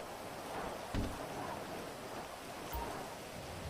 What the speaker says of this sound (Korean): 여기서도 비가 와요?